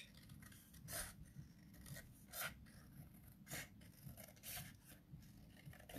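Scissors cut a large leaf shape out of card for a kids' craft, giving a run of quiet, rhythmic rasping snips at close range, spaced roughly every half second.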